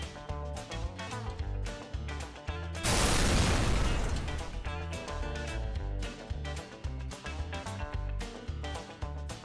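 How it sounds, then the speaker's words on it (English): A loud explosion sound effect bursts from a portable loudspeaker hidden in a backpack, a roaring blast of a second or so cutting through steady background music, which carries on after the blast. "I turn on a loud sound of explosion."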